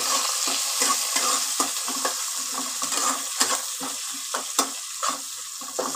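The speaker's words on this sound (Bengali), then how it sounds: "এবার পেঁয়াজটাকে আমি একটুখানি লাল লাল করে ভেজে নেব" Chopped onion frying in a pan while being stirred, a continuous close sizzle broken by frequent rhythmic scraping and clacking of the spatula, with no voices.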